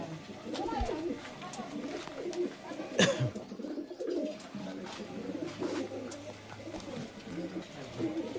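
Kaldum pigeons in a loft coo in repeated low, wavering calls, moderately close, with people talking intermittently and a sharp knock partway through.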